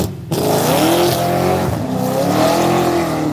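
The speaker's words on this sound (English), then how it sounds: "I'm going to see what this Camaro runs" A Chevrolet Camaro launches at the Texas Mile, its engine roaring loud and close with rising, sweeping pitch as it pulls through the gears.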